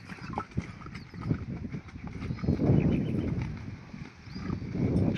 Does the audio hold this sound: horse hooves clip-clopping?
yes